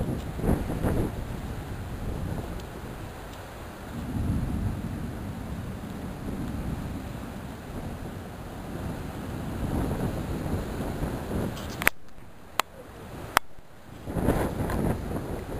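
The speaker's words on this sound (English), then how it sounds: "Oh, listen to that storm." Stormy June evening outdoors, with steady wind rumbling and gusting for most of the stretch, then a few sharp cracks near the end, loud against the wind.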